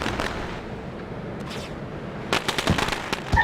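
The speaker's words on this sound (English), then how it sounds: "Now the fireworks go off." Fireworks going off in a sim racing video game, a continuous crackling rumble that gives way to a burst of sharp, loud pops and bangs toward the end, with no one speaking.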